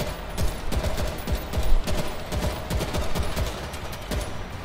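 Rapid gunfire from World War Z, a zombie shooter game, with dense bursts of automatic and repeated shots crackling steadily throughout at fairly loud level.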